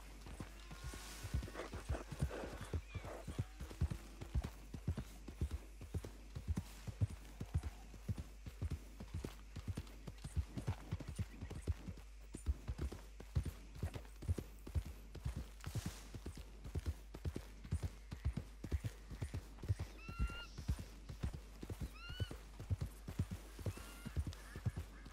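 Steady rhythmic clip-clop of a horse's hooves riding into Valentine in Red Dead Redemption 2, continuous close hoofbeats with an occasional snort or whinny over a low rumble.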